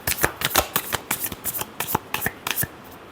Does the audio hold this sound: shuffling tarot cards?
yes